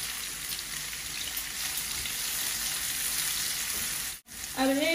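Garlic, ginger and a halved bay leaf fry in oil in a pan as onion goes in, giving a steady, close sizzling hiss that cuts out briefly near the end before resuming.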